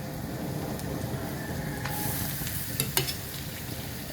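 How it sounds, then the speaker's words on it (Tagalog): Vegetables tipped into a hot pan for a coconut milk mixed veggie dish, a constant loud sizzle and frying hiss with a few stirring clinks and scrapes near the end. "So, ay aking ibubuhos na itong gulay."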